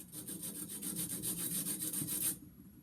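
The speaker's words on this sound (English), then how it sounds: "You want to sand it." Copper pipe being sanded with emery cloth before soldering, a rapid, regular back-and-forth scratching with a bright hiss on each stroke, close and steady for about two seconds before stopping abruptly.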